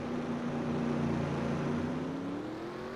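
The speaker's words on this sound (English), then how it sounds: "because these cars are loud." Loud race car engines drone steadily from a racing video game's Australian Grand Prix, a continuous dense whine with a rising harmonic tone as the cars sit on the starting stretch.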